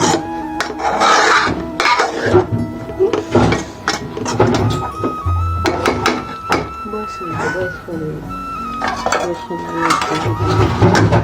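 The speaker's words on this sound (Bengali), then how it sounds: "ভালো করে লেড়ে চেড়ে নিয়ে নেবেন" Fish curry with cauliflower being stirred in a cooking pot, with a spoon scraping and clinking against the metal in repeated strokes, fairly close and loud, running throughout.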